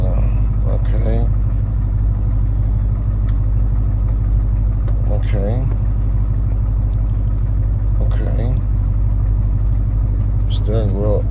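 Lamborghini Urus engine running after the ignition is turned, a loud, steady low rumble at idle underneath intermittent speech from people nearby.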